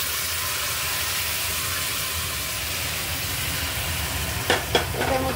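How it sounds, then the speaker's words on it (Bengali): Hot oil poured over boiled, salted food sets off a steady, dense sizzle that fills the whole stretch, with a few sharp clatters of utensil against pan near the end. "দেখুন, তেলটা গরম হয়ে গেছে। এবার আমি এটা ঢেলে দেবো এর মধ্যে।"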